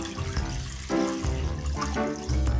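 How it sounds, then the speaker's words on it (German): Tap water running steadily into a cooking pot for a vinegar brine, a loud continuous splashing rush with no talk. "Und zwar kommt jetzt dann das Wasser mit in den Topf."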